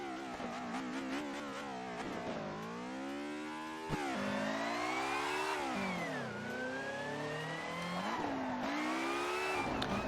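A race car engine in Assetto Corsa on the Nordschleife, with traction control off, revs and whines through rising and falling gear changes, a steady simulated drone with a sharp click near the middle.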